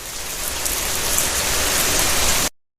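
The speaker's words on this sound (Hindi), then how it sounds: "उस रात जंगल में बारिश होने लगी। पत्तों पर पानी की बूंदें टपक रही थी" Steady rain pours down on leaves in a dense, even hiss, loud and close, then cuts off abruptly.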